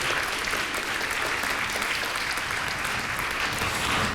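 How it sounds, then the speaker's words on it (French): An audience at a French interprofessional workshop gathering applauds, a steady wash of clapping from many hands filling the room for several seconds without talk. "On peut l'applaudir."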